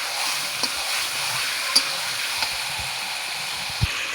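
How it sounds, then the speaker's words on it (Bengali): Fried potatoes and chicken sizzle together in a pan, a constant hiss broken by a few stirring knocks and scrapes. "আমি ভাজা আলুগুলো দিয়ে দেবো একসঙ্গে"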